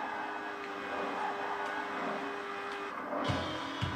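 A racing V12 car in Forza Horizon 4 roars steadily down a highway, its engine note holding a continuous drone with a brief shift near the end, loud and alone without talk.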